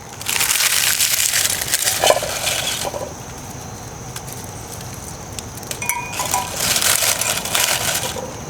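A handful of dry leaves being crunched outdoors in the woods to feed a Kelly Kettle fire gives loud, close, crackling crushes in bursts, with a quieter stretch between them.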